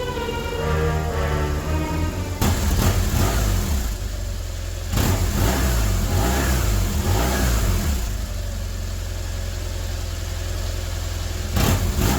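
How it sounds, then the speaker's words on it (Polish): A BMW R1150 motorcycle engine, treated with Ceratec, runs close by with a steady idle and a few rising revs that swell and fall back, loud and continuous throughout with no talking. "Silnik pracuje ciszej, czyli jest tak jak zapowiadał producent."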